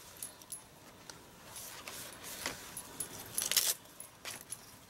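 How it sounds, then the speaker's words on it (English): Colorful patterned tissue paper is handled and laid in place, giving a run of light, crisp crinkles and rustles in short irregular bursts, close by and alone. "I'm just going to throw on the rest of this paper"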